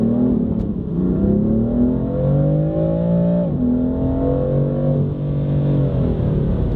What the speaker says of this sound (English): now from standing still in M mode, and the valves, Guerrilla exhaust valves, completely open as well